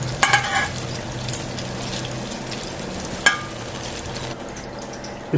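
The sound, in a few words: fish frying in a pan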